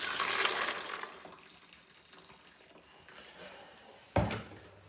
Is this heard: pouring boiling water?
yes